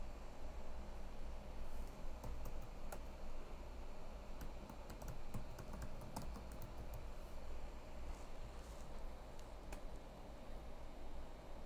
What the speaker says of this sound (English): Let me type in for now.